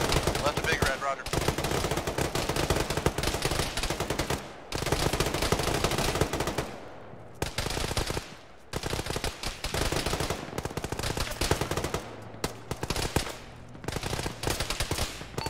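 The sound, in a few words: machine gun fire in a video game (Arma, ShackTac)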